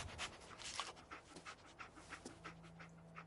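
Dog panting in the video game Fallout 4, a steady run of quick breathy pants over a low hum of game ambience, close and moderately quiet.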